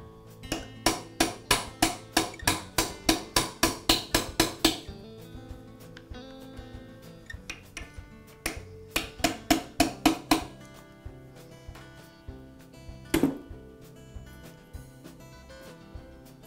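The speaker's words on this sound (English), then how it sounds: "use a punch to tap the spindle out" Sharp metal-on-metal hammer blows from a punch driving a rusted spindle out of a ring clamped in a vise, during Milwaukee reciprocating saw repair; fast rhythmic taps in a long burst, then scattered strikes and another run of close, loud hits.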